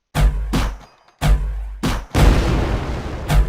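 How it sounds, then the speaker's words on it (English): Rocket launcher blasts in a video game fire in quick succession, five or six sharp booming thumps with short gaps between them, the longest followed by a rumbling explosion tail. "So what you could do is like blast them with a rocket launcher."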